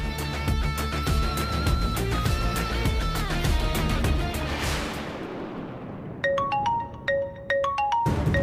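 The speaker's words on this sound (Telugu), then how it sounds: "నా ఫోన్ మోగుతుంది" A mobile phone rings in an Indian Telugu television drama. A dense music-backed passage fades, then a bright tonal ringtone plays alone with rhythmic repeated notes.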